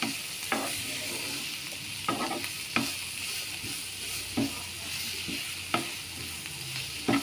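Finely chopped garlic fries in a pan beside onion for a mushroom chilli fry, a low steady sizzle broken by occasional stirring knocks and scrapes, close and quiet.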